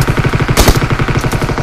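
Rapid bursts of video game gunfire, a steady rattling stream of shots with a louder blast in the middle, close and loud.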